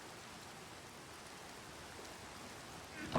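Rain falls steadily in a video game, a soft, even hiss of drops that stays faint and constant, ending with a brief louder sound at the close.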